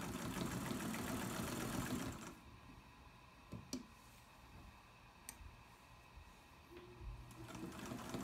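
A restored 1950 Singer 99K sewing machine stitching fabric, a steady close mechanical whirring and needle clatter for about two seconds, then stopping, with small clicks and handling noises before a brief restart.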